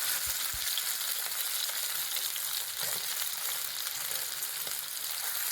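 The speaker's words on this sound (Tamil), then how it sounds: "இந்த எண்ணெயில் சிக்கன் வந்து ஃப்ரை ஆகுது." Chicken pieces fry in hot oil, giving a continuous, fairly quiet sizzle and crackle with no voices over it.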